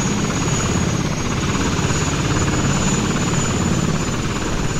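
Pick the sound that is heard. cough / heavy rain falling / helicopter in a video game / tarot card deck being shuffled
helicopter in a video game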